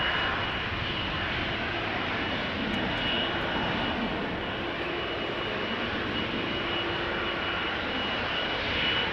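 A KLM Boeing 777-200, 19 years old, departs Amsterdam Schiphol bound for Minneapolis, its jet engines roaring loud, close and steady throughout with a broad sustained rumble and no voices.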